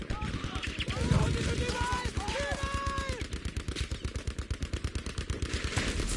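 Tanks trading shots in an online armor-on-armor video game match, rapid rhythmic bursts of cannon and machine-gun fire repeating steadily throughout, with an excited voice calling out over the first seconds.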